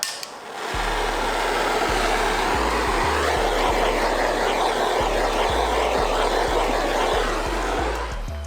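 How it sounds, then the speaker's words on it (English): Blowtorch roaring steadily while being passed over the bodywork of a BMW G87 M2, a loud continuous hiss-and-rush with a low hum underneath, close and unbroken for several seconds. "So now we'll try the blowtorch method"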